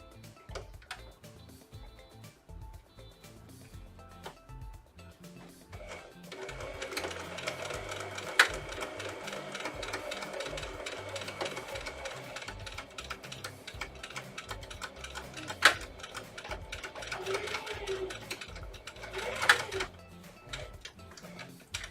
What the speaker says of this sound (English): We're going to sew right across that bow center